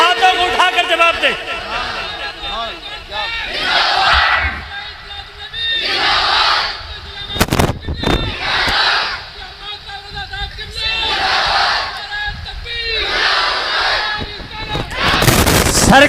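A gathered crowd at a religious sermon roars back in unison to a leader's calls, loud repeated collective shouts alternating with a single amplified voice, swelling and dropping roughly every two seconds.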